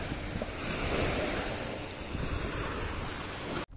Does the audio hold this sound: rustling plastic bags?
no